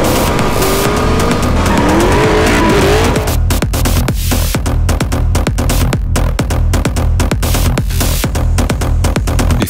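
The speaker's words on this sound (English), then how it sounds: "the chassis is run up to 90 miles per hour" A Dodge Viper driven hard at speed, a loud, close engine roar with rising revs and tire squeal, then a fast run of sharp, evenly spaced pulses.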